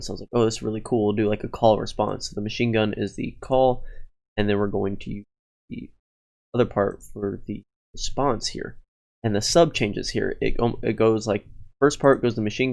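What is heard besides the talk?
No everyday noise stands out behind the speech.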